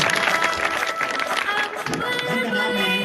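Students at a government primary school's Independence Day celebration clap for a first-prize winner, a busy crowd patter mixed with chatter and a few voices.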